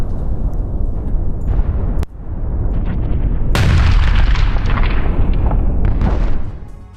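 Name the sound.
suicide drone explosion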